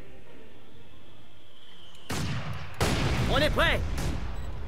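Heavy gunfire erupts in a Company of Heroes 2 battle, with loud broadband bursts that start abruptly and then continue as a dense, rumbling barrage. A soldier's voice speaks briefly over the shooting.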